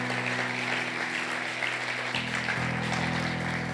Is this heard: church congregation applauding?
yes